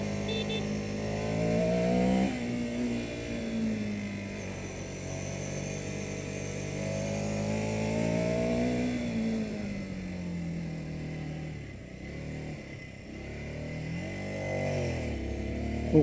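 A Ducati Scrambler Sixty2 motorcycle engine is ridden up a steep road in Kathmandu, droning steadily close by with rising and falling pitch as the revs climb and ease through the gears, with no talk over it.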